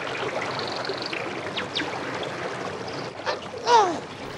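A stream flows with a steady soft rushing hiss in an animated fable about an ant and a wild pigeon, with a few faint chirps and a brief swell near the end.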